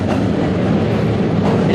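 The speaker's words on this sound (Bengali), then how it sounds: "তো গাইস আমি বেশি জানালার সামনে যাচ্ছি না, কারণ কি ট্রেন এখন স্লো" A passenger train rolls slowly along the rails, giving a steady, loud rumble with faint rhythmic clacking and no voices.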